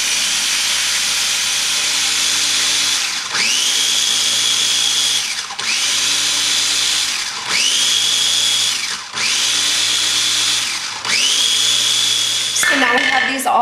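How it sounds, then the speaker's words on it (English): Electric kitchen grinder chopping cooking ingredients for a steak dinner, a loud high motor whir running in repeated pulses of about two seconds, each starting with a rising pitch, a brief rattle at the end. "We're just gonna start grinding. I have 2 options of mine, grind and chop."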